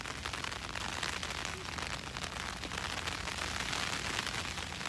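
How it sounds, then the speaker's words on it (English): Steady regular rain drums on a Mountainsmith Lichen Peak 1 tent on a near-freezing night, a dense, even hiss of drops that stays constant throughout with no voices. "so far it's still just regular rain"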